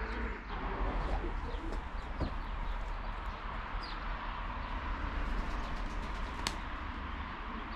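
Racing pigeons coo at a loft near Szczecin on a race day, with soft repeated calls and occasional chirps from other birds over a steady outdoor background, without speech.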